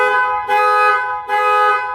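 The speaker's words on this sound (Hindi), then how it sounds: "ये मुझे गलती से हॉर्न वाला बटन दब गया" Two loud, sustained car horn blasts from a 2025 Toyota Corolla, set off from the remote key, close and steady, with a short gap between them.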